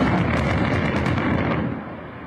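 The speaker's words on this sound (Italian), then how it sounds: "il brillamento dei massi sul costone che mettevano appunto a rischio case e strade" A controlled blast of rock boulders on a hillside above houses and roads in Taormina, Sicily: a deep, rumbling roar continues, then slowly fades away, with faint crackles of falling debris over the low boom.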